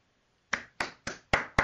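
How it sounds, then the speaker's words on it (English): One person clapping hands five times at a steady, slightly slow pace, each clap sharp and close with a short decay, after a brief moment of near silence. "I'm clapping. I'm just gonna clap."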